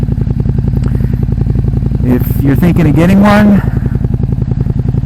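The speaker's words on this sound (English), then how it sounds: "Nice V-twin engine." A 2011 KTM RC8R with a V-twin engine, Akrapovic exhaust, quick shifter and slipper clutch throbs loudly and steadily up close, with a short rev in the middle while someone talks over it.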